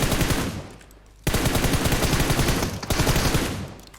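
Sustained machine gun fire in PUBG Mobile, two long dense rapid-fire bursts split by a short pause, loud and close with no talking.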